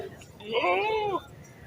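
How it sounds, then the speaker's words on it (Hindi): A white goat bleats once at a Karachi livestock market, a single wavering call of about a second, fairly close, over the murmur of market voices. "माशाल्लाह, काफ़ी खूबसूरत वाइट कलर का बकरा है।"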